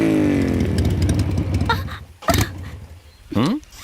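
A motorcycle engine runs out of petrol in a forest setting, its rumble winding down and sputtering, then dying to brief revs and clatter, with people talking over it.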